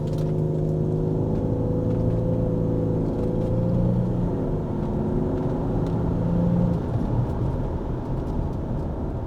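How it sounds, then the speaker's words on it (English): A VW Touareg TDI diesel with an 8-speed transmission accelerates hard, its low engine drone rising in pitch through the gears and dropping at shifts, steady and fairly close from inside the cabin. "Let's do a quick little pull just to show how this car goes."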